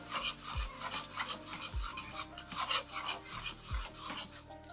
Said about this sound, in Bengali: এই মশলাগুলো একটু ভালো করে জাল করে নিব।